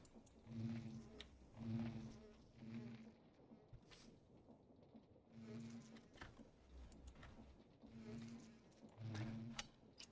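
Bees buzz around a full beehive in Minecraft (FTB Skies modpack), a soft, steady insect drone that swells and fades in several short bursts over quiet background.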